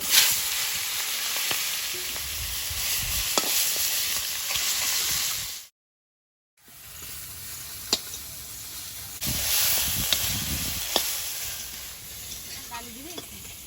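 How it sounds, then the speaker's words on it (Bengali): A fish head fries in hot oil in a wok, giving a continuous bright sizzle with crackles and spatters, briefly cut off by a moment of silence before the frying resumes. "মাথাটা ভেজে নেব।"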